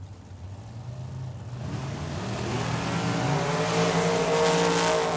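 Drag cars at Tucson Dragway, one of them a Corvette, launching off the line, with engine roar building steadily into a loud, rising, sustained wail.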